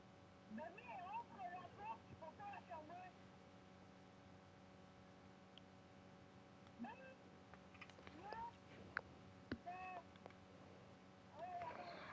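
A cat meows repeatedly indoors, short, faint mewing calls spread across the clip over a steady electrical hum, with quiet people talking nearby.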